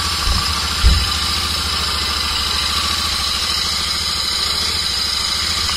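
A Royal Enfield Interceptor 650 motorcycle starts with a short cranking burst, then settles into a steady, rumbling idle with a continuous even throb, close by and alone.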